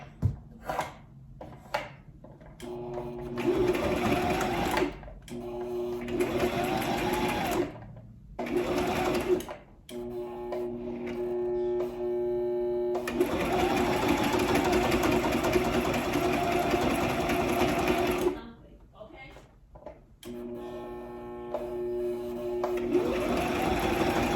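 A sewing machine stitches wig wefts with a light touch on the presser foot, its close, steady motor whir running in long bursts broken by brief pauses, with no talking.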